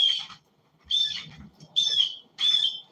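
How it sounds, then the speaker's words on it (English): Pet birds squawking indoors: four loud, harsh, piercing calls with short gaps between them, close to the listener and with no one talking. "Jessica, you and them birds."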